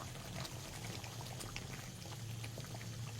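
Chicken korma simmers in milk and onions in a covered pot, a steady low bubbling and hissing bed with soft crackles, continuous and close with no talk over it.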